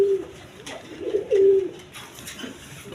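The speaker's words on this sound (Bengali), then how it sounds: "ইন্ডিয়ান বোম্বাই কবুতর ব্ল্যাক কালারের মধ্যে, একদম সাদা ঠোঁটের" Black Indian Bombay pigeons with pure white beaks coo at a pigeon farm, a close, low rolling call swelling twice over soft background hiss.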